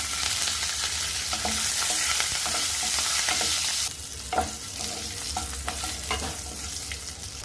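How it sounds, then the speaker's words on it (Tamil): Shallots, curry leaves and asafoetida fry in hot oil for a tamarind curry while being stirred, a dense crackling sizzle with scraping stir strokes and a few sharp pops, steady and close with no speech. "இதெல்லாம் பொரிஞ்சதுக்கப்புறம் இதில் பெருங்காயத்தூள், சின்ன வெங்காயம் ஒரு 6 சின்ன வெங்காயம், கருவேப்பிலை ரெண்டும் சேர்த்துக்கிறேங்க"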